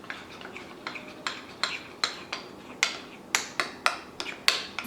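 A spoon taps and clinks rhythmically against a bowl while food coloring is mixed into cupcake batter, with about a dozen crisp, evenly spaced clicks that grow slightly stronger toward the end.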